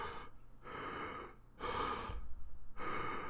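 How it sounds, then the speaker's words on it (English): Heavy breathing right up close to a microphone, three loud rushing breaths alternating with short pauses, the later ones stronger and rougher, with no talking. "I'm breathing heavily into the mic."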